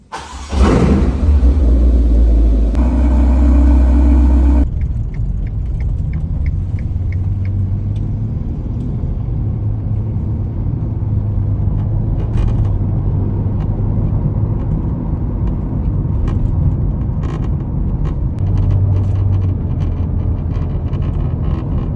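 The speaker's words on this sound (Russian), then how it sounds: "Вот такое ужасное дребезжание происходит в районе лобового стекла." Dashboard of a 2018 Ferrari Portofino convertible rattling near the windshield: a loud opening thump, then steady engine rumble and road drone with scattered small clicks and buzzes throughout, no talking.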